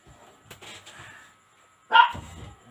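Several dogs bark in a short, sharp burst near the end, loud and close, after a quieter stretch of faint yapping and background noise.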